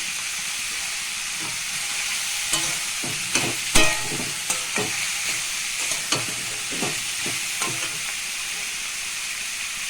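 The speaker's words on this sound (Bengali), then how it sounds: "প্রথমে আমি নারকেল বাটাটা দিয়ে দিলাম" Coconut paste hits a hot pan for jackfruit curry with lentil fritters, setting off a steady, close frying sizzle broken by several soft scraping stir strokes.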